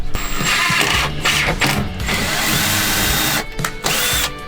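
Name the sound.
screwing benches into furring strip with a drill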